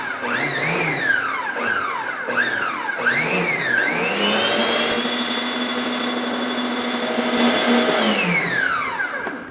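A stand mixer whirs through cake batter, its motor pitch rising and dipping in quick surges before settling into a loud, steady whine. It then winds down at the end, with no talking.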